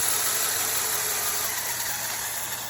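A custom LEGO RC car's electric motor runs steadily on its own, giving a continuous high-pitched whine with a faint buzzing hum underneath.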